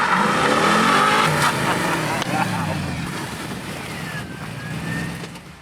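Holden Monaro arriving with its engine revving and roaring loud and close at first, then easing off as it approaches, with wind noise and people talking over it.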